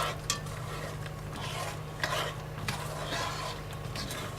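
Vegan toasted almond brittle stirred steadily in a pot, a soft continuous scraping and swishing with occasional clinks of the spoon against the metal, over a steady low hum from a nearby oven.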